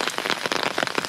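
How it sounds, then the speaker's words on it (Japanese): Rain begins pattering on a bamboo forest path near a mountain temple parking area, a dense steady spatter of drops close by with no voices. "雨降ってきた。"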